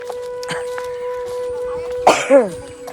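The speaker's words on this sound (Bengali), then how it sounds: "এত কাশি হয়েছে আমার বলার বাইরে" A person coughs in a short harsh burst outdoors among large trees in a village, loud and close, over a steady background hum and faint talk.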